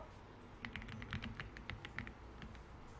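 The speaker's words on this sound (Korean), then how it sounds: "클릭하고 한 템포 쉬고 한 번 더 클릭 그리고 백스페이스에서 지워주세요" Computer mouse clicks and a keyboard backspace during a PowerPoint exercise: a short run of crisp, quiet taps and clicks spaced unevenly, close by, with no talking.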